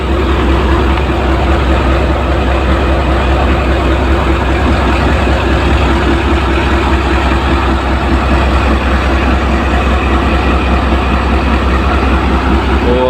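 Railway locomotive ZCU 36302 idling at a station, a loud, steady, heavy diesel rumble that holds unchanged throughout and dominates everything close by.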